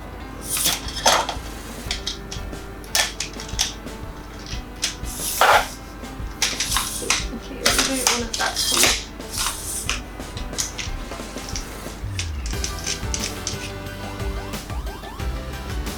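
Metal parts of a ring light tripod clink and rattle as it is set up and its height screws adjusted, a string of close, sharp taps and scrapes with a low hum underneath.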